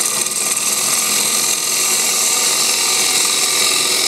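A bowl gouge shears wood on a lathe while turning bowl grain, its bevel riding the cut to take a 3/8 inch shell, giving a steady, loud, continuous hiss and rasp close by with no pauses.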